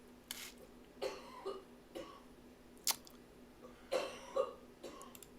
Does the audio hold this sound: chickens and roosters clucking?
no